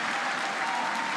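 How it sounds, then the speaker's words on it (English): Crowd at a curling game applauds, a steady wash of clapping from many spectators that stays even for about a second. "And the crowd giving a nice round of applause to Reed Carruthers"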